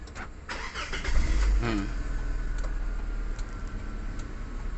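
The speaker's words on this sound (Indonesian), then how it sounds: "Kita hidupkan mobilnya." A 2004 KIA Carens II automatic is cranked and fires, its brief starter whir settling into a steady idle heard up close, with no talk over it.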